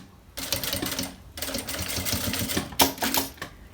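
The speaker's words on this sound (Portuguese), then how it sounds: "E vou passar essa costura aqui de arremate, ó, de acabamento." A sewing machine runs a finishing seam on a fabric pencil case, stitching steadily and close-up in two long runs broken by a short pause, with a brief louder burst near the end.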